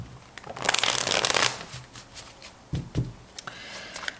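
Tarot cards are shuffled by hand for a reading, with a close, dense riffling burst followed by a few softer taps and slides of the deck, without any talking.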